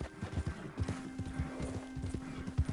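A horse's hooves pound in a quick, steady galloping rhythm in the Red Dead Redemption 2 video game, moderately quiet with a faint background hum and no talking.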